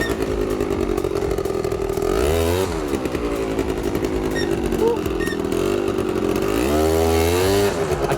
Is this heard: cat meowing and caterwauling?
no